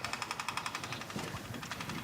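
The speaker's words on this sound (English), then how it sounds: "It's the sound of fuel pressure." A steady, rapid mechanical buzzing pulse, like a fuel pump priming, ticking in regular beats for a couple of seconds with no talking.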